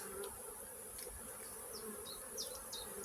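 Honeybees buzz around a hive in a colony affected by chronic bee paralysis virus, a soft continuous hum with brief higher wingbeat whines darting in and out.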